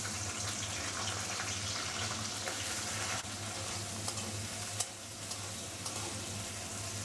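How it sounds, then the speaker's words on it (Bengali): Cauliflower fries in a pan of oil with cinnamon, cloves and cardamom for chire polao, giving a steady, moderate sizzle with faint stirring scrapes throughout. "ফুলকপিটা একটু ভেজে নেব।"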